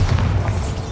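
A Bombarda spell explodes in Hogwarts Legacy as a loud, close, sustained low boom with a rumbling body that fills the whole short moment.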